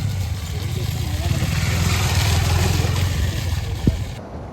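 A motorbike engine runs steadily on a rough hill road on the way to a hidden waterfall, a low continuous drone close by that holds level throughout, with no clear revving.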